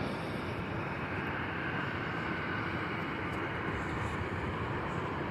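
Steady, broad airplane engine roar at Tampa International Airport, loud and continuous without a break, with no voices over it.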